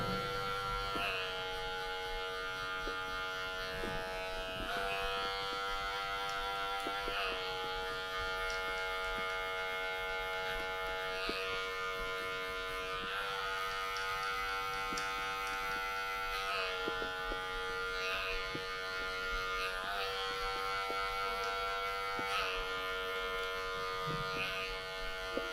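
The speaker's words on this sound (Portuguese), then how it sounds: "para suavizar com a máquina, sem o pente" An electric hair clipper with no guard smooths a taper fade: a loud, steady buzz that runs throughout, its pitch dipping and shifting every few seconds as the blade meets the hair.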